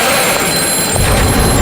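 A telephone rings loud and close, a steady shrill ringing that fills the whole moment with no voices over it, set in a haunted thriller drama.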